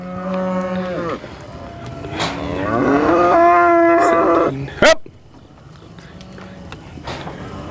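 Cattle moo loudly and repeatedly during a horseback cattle roundup near Emporia, several long calls overlapping close by, with a short shout and faint dog-like barks among them.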